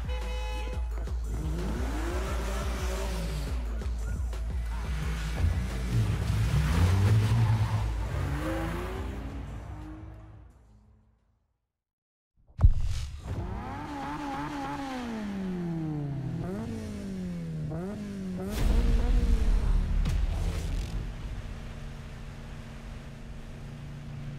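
A car engine in the 2015 Need for Speed video game revs and accelerates loudly, rising and falling in pitch with gear changes, drops to silence briefly, then roars back with more revving sweeps.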